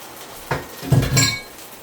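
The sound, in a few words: mixing cornstarch and water in a dish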